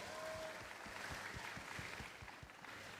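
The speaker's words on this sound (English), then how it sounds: "please give a big round of applause to our speaker today" Seminar audience applause for a speaker at an entrepreneurship event, a faint, distant, steady patter of many hands clapping, with no talk over it.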